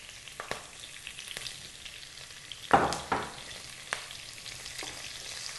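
Curry leaves fry in hot oil for a fish curry, giving a soft, steady sizzle broken by a few sharper crackling bursts and light scraping as the mix is stirred, with no talk.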